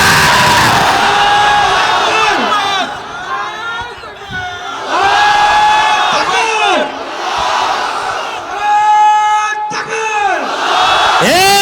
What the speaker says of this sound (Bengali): আমার আলেম ভাইরা আহম্মদের মতো তাকবীরের ধ্বনি দিয়া দিবা